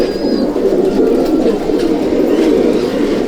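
Malwai pigeons in a breeder's loft give a continuous, close, low cooing drone throughout, with no talking.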